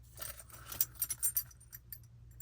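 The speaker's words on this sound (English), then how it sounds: "And we have the trunk key too, door key" A ring of car keys, including a trunk key and a door key, jingles close to the listener in a few quick metallic shakes, quiet against a low background hum.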